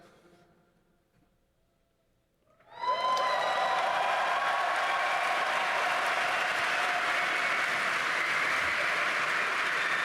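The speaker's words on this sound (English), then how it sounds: "It's the Germans, they clap for you." An audience bursts into sustained, loud clapping and cheering at a gaming event premiere, starting abruptly after a quiet moment and holding steady to the end.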